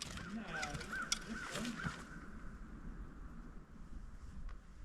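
Crows caw several times in the first two seconds, moderately distant, over constant wind noise in a garden beside raised beds; the calls fade and only wind remains.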